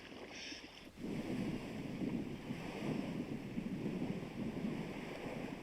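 Choppy water churns around a small boat out on rough waves, with continuous wind buffeting the microphone and steady sloshing throughout.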